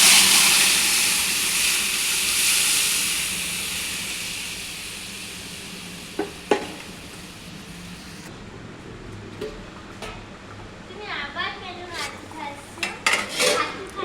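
Chana dal poured into a pan of fried spices sets off a loud, broad sizzle that fades over several seconds, followed by scattered clinks and scrapes of utensils against the pan.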